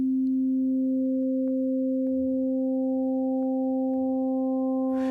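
Steady, pure synthesizer tones from Ableton's Operator FM instrument hold continuously, with higher harmonic intervals stacking in one after another over about five seconds, clean and alone.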